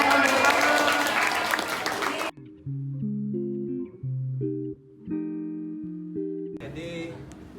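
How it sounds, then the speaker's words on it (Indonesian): A group claps during a class visit to a geophysics station, a dense burst of applause lasting about two seconds that cuts off into a sequence of steady electronic tones. "Oke, tepuk tangan dulu."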